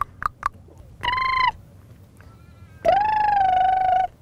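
A person imitates a duck with short nasal quacks, then two longer drawn-out honking calls, loud and close, while trying to attract a quokka on Rottnest Island near Perth.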